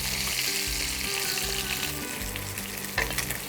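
Fish sizzling steadily in hot oil in a home kitchen for a Bengali fish shukto, a loud continuous frying hiss with low bubbling underneath, no voices.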